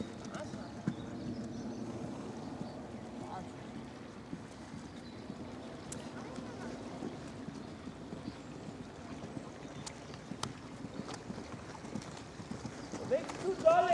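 Horse hooves thudding on a cross-country eventing course with water and log obstacles at Luhmühlen, faint and intermittent under wind noise and a coach's voice speaking.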